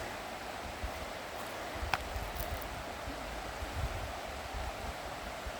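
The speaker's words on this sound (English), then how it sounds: "nice sound of the river" Averon River flowing past a small island near a high street, a steady broadband rush of moving water that stays even and continuous throughout, with no voices.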